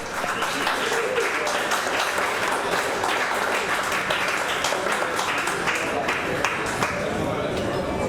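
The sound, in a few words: audience applause for chilli eating contestant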